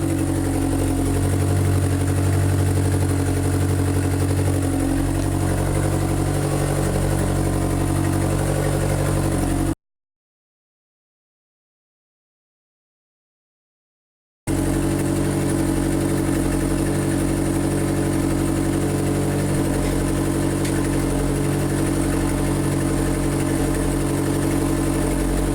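A freshly installed Honda D16Y8 car engine idles steadily and fairly loudly close by, with a constant low hum that breaks off into a few seconds of complete silence and then resumes unchanged.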